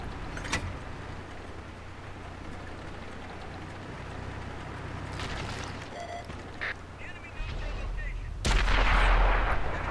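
A light tank's cannon fires in World of Tanks, the M41 Brazil on Xbox: a sharp shot early, engine rumble and scattered battle noise, then a louder heavy blast near the end.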